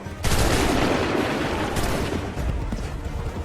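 Musket volley in Assassin's Creed 3, a sustained roar of massed gunfire that starts sharply and rumbles on loudly throughout, with a second burst of shots partway through and no talking.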